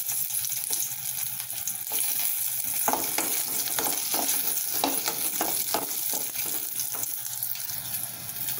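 Eggplant sautéing in a pan for Tamil moor kulambu makes a loud, continuous sizzle up close, broken by repeated scraping stirs.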